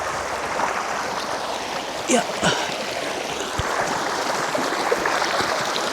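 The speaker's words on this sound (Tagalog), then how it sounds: "Yan yung agos ng tubig ko." Steady broadband rush of a stream flowing past a campsite at Camp Payapa in Real, Quezon, continuous and fairly close, with a brief spoken word and a few faint clicks over it.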